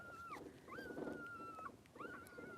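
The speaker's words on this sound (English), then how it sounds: "We have six puppies." Newborn puppies from a litter of six whimper in thin, high, drawn-out cries, repeated several times, close but soft against a low background murmur.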